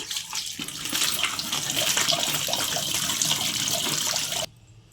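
Chopped nalleru stems are washed in water in a kitchen. A steady rush of running, splashing water sounds close and loud for about four and a half seconds, then cuts off abruptly into quiet.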